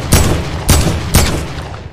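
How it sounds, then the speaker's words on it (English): Three sharp gunshots crack out at even intervals in a Fortnite match, loud and close, each with a short booming tail and no talking. "I literally just heard a shot."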